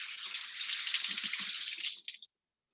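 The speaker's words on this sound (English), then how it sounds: "Let me give my hand a rinse." Running tap water pours steadily over hands being rinsed, a close hissing splash that softens with a few drips and then stops abruptly.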